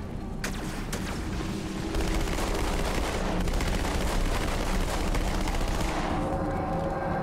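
SMG fire in Halo 2 Anniversary during the High Charity co-op level: a dense, continuous rattle of rapid shots with booming game effects, loud and unbroken for the whole stretch.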